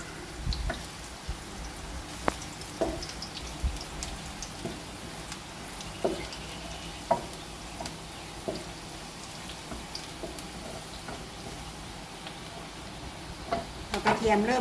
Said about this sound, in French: on fait cuire l'ail avec un filet d'huile